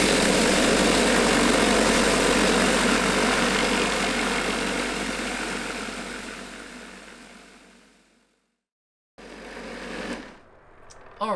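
A vibratory tumbler shakes old hardware in green resin media, giving off a steady droning buzz and rattle that slowly fades out, then a brief silence before a short stretch of quieter rattling returns.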